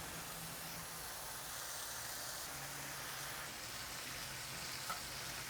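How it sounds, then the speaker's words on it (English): Bacon strips fry in a warm cast iron skillet, giving a steady, soft sizzle and hiss that continues without a break. "First up, we're gonna get our bacon strips cooked off."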